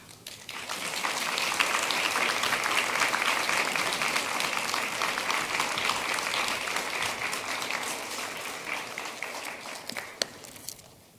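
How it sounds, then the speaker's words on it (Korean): A church congregation at a young adults' Sunday worship service gives warm applause to welcome their pastor. The clapping swells quickly, holds full and sustained for about ten seconds, then thins out with a few last claps. "오늘만큼은 우리 목사님 환영한다는 의미로 따뜻한 박수로 맞이해 주시면 감사하겠습니다"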